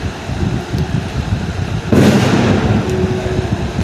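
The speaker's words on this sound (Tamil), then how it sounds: "பட்டாசு வெடிக்குது." Firecrackers burst during a live Free Fire mobile game session, a sudden loud crackling blast about halfway through that rolls on over a noisy background.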